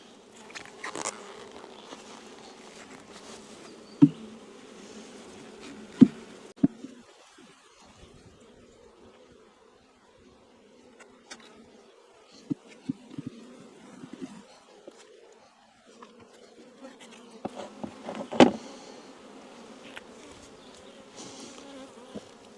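Honey bees, including drones, buzz steadily around an open hive, a continuous close drone with occasional soft knocks and handling clicks, no talking.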